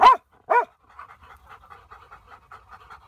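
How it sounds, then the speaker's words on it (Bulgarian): Two dogs, a pair of vom Bojanawald dogs with a third dog, pant steadily in quick, soft rhythmic breaths close by after two short louder vocal bursts at the start, with no talk over them. "Браво на добрите кучета"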